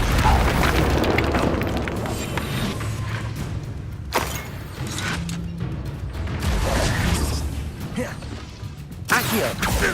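Incendio fire spell blasts during combat in the video game Hogwarts Legacy, loud booming bursts and crashing impacts repeated across dense battle noise, with a voice speaking briefly among them.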